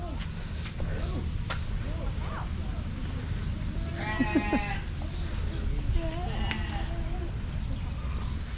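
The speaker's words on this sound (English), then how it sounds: "Sheep." Sheep and goats bleating at Amphawa market in Thailand, a few wavering bleats at mid distance amid a busy outdoor murmur, with people talking nearby.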